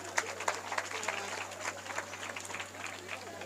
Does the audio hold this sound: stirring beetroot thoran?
no